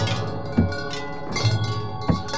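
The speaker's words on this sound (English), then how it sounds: "On tubular bells," An elephant strikes tubular bells in an elephant orchestra, sounding a few ringing metallic tones that overlap and sustain, heard close amid other layered resonant instruments.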